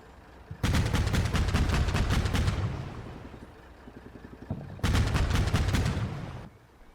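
Sustained bursts of automatic fire from a BMP in the war game Combat Mission Black Sea, two long rattling volleys with a quieter gap of distant battle noise between them, loud and dense.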